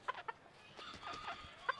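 A small chicken with a peacock-like tail gives a few soft, brief clucks, quiet and close, with faint background sounds between the calls.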